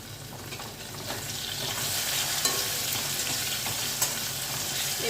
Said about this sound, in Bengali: আলুটাকে এক দু মিনিট মতন ভেজে নেওয়ার পরে একটু সাইডে সরিয়ে নিয়ে দিয়ে দিচ্ছি এর মধ্যে সাদা জিরে ফোড়নে